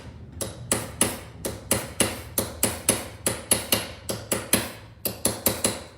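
A metalworking hammer strikes flat metal to texture it, landing about twenty sharp, ringing blows in a steady, brisk rhythm, each one close and loud with a short bright decay.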